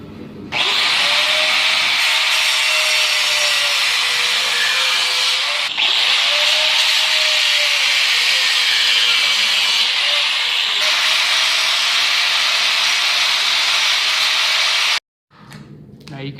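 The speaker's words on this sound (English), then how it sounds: "I'm just going to chop that off with an angle grinder." An angle grinder cuts excess threaded rod off a workbench built from 2x4s, screaming loud and continuously for about fourteen seconds with brief dips, then cutting out abruptly.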